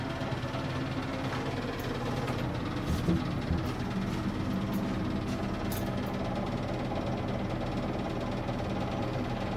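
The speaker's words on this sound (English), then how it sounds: "It is turning off currently. Yeah, it's an old wobbly motor." An old, wobbly motor runs steadily during apartment maintenance work, giving off a continuous rumbling, slightly knocking mechanical drone with faint vibration throughout, close by and without talk.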